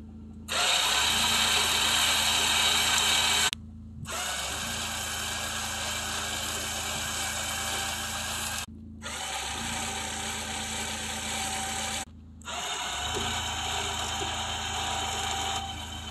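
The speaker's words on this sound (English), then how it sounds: "We're going to use that snatch block cable and winch and put it up on that milling table." A winch pulling a snatch block cable to drag an 1,800 pound log, 22 inches across the base, onto a milling table, heard as a loud steady motor whine in four long runs with brief pauses between them.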